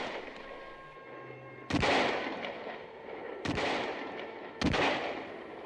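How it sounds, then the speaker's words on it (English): Rifle shots fired in a battle against green warriors, three loud, sharp cracks spaced a second or two apart, each trailing into a long booming echo over a dim ambient background. "I took out my rifle from its case. I began firing to slow the green warriors."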